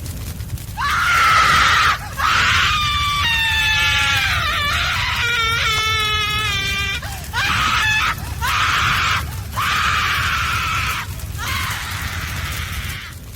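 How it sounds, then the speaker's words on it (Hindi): A drawn-out, inhuman shriek in a horror story wavers and wails loudly in several long bursts, sounding like a distorted, goat-like scream over a low rumbling background. "आयशा ने एक ऐसी चीख मारी जो इंसानी नहीं थी।"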